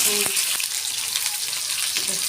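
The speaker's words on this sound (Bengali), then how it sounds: "বেগুনগুলো দিচ্ছে বেগুনগুলো হালকা করে ভেজে নেবে" Eggplant pieces frying in hot oil with a steady close sizzle and a few sharp knocks of a utensil against the pan.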